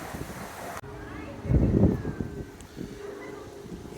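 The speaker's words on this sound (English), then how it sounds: "It's very, very windy." Strong wind gusts buffet the microphone while crossing a garden bridge, a low rumbling roar that swells loudly mid-clip then eases, with a faint whistle and soft background murmur.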